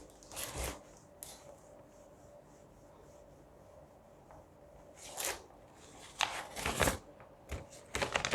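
An eraser rubs across a board in short, scratchy strokes, a few early on and a denser cluster near the end, with quiet pauses between.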